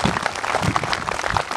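Applause from a crowd at a PKK women's gathering in Lanny Jaya regency, Indonesia, a steady wash of clapping at moderate distance, continuous through the short stretch.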